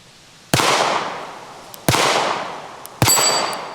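A 9mm SIG carry pistol fires three loud, close shots outdoors, each a sharp crack with a ringing tail, spaced about a second or more apart, with faint metallic pings from a steel target plate.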